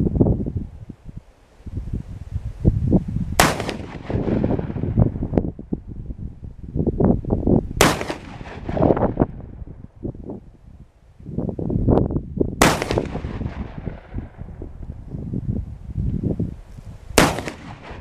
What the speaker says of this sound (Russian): 5 выстрелов, 150 метров.